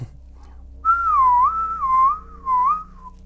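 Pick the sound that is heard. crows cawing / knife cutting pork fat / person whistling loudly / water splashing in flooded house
person whistling loudly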